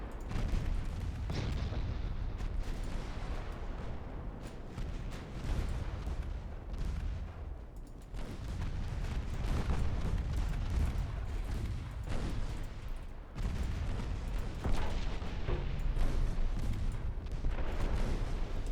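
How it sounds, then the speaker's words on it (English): Torpedo detonation on a warship in the naval game Ultimate Admiral Dreadnoughts, heard as dense, rumbling booms and heavy gunfire-like blasts going on continuously at low level. "Torpedo detonation on Forte."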